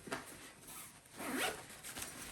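A zipper on the interior pocket of an Abercrombie & Fitch backpack is pulled in a few quick, quiet strokes, close and faint, with one longer drag near the middle and no talk.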